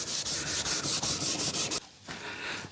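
A cloth rubs shellite over the case of an Ekco A355 radio, a steady, close hiss of rhythmic wiping strokes that breaks off briefly and then resumes more quietly.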